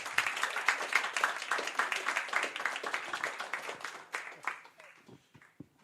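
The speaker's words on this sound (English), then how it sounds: "Final round of applause for the candidates." Audience applause for the candidates at a student union winter elections results announcement, a dense burst of many hands clapping that gradually thins out and fades toward the end.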